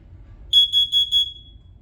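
A smoke alarm under test gives a quick burst of four short, shrill, closely spaced beeps, loud and alone, then falls silent.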